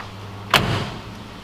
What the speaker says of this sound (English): Doors close and line up the way they should.